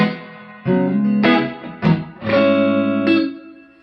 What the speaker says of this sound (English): if you like spring reverb, hell, even if you don't, this pedal's sweet